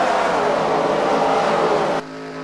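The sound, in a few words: stock race cars accelerating back to speed in a racing video game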